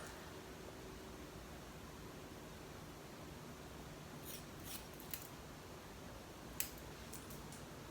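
Scissors trim hair for curtain bangs, producing several quiet, crisp snips in a short cluster and then a few more, close by against a faint, steady background hiss.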